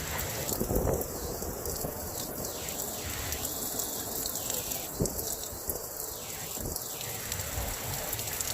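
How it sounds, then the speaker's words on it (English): Wind roars steadily through a nasty storm, mixed with heavy rain hiss, broadband and continuous with occasional louder gusts and thuds. "That wind is just howling."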